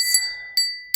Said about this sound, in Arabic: وأيضا أخذت هذا الجرس